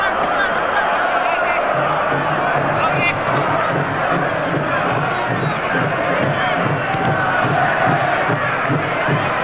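Travelling Rotterdam supporters fill a football stadium at a Monaco–Feyenoord match with loud, rhythmic chanting and a steady crowd roar, while a commentator talks over it.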